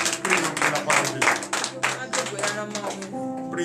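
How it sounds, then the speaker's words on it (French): At a morning prayer service in Benin, worshippers clap in quick bursts and raise voiced acclamations for Jesus, with hand claps and shouting voices mixed together close by. "Donnez l'acclamation à notre Seigneur Jésus"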